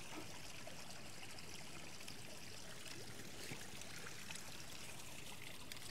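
Creek water running steadily through a gravity-fed siphon pipe in an off-grid water system, a continuous soft trickling flow with faint splashing, quiet and without any voices.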